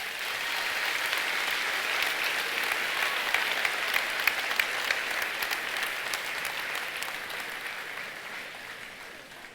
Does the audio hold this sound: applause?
yes